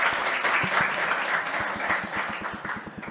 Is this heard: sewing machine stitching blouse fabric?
no